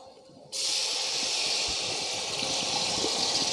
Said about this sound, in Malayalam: ഒരു എട്ട് പത്ത് പുളി തിളപ്പിച്ച് വേവിച്ച് വെച്ചേക്കുന്ന വെള്ളമാണ് ഒഴിച്ചോളൂ